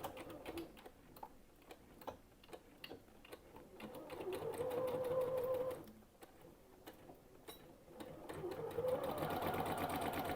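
Domestic sewing machine stitching binding onto a quilt, running in steady rapid bursts with brief pauses, fairly close and moderately loud, no talking.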